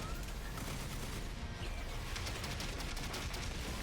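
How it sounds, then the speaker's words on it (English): A steady roar of weapon fire fills a battle in the video game The Hundred Line: Last Defense Academy as missiles are launched, with dense rapid blasts at constant loudness and no break. "They're gonna hear Tenta missiles!"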